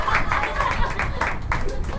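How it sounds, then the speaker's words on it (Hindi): A church congregation claps together at a Sunday service, a lively run of rhythmic clapping of roughly even beats, full and nearby, with faint crowd murmur. "ताली बजाओ"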